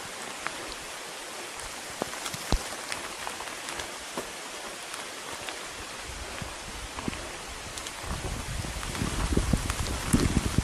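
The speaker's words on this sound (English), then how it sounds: "There's the rain." Steady rain patters down outdoors during a cross-country mountain bike race on the Coast Hills course, a dense even hiss of drops with scattered sharper hits, swelling louder and heavier toward the end, with no voices.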